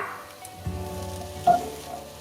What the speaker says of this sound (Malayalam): capsicum, onion, chili, ginger garlic, chopped ginger garlic എല്ലാം നമുക്ക് ഇട്ട് കൊടുക്കാം.